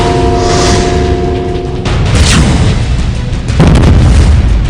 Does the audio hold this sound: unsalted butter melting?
no